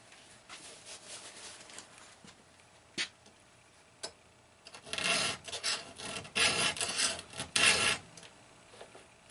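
A hand file rasps across the teeth of a pole saw chain being sharpened, with faint scattered strokes at first, then a dense run of louder, rhythmic filing strokes close by.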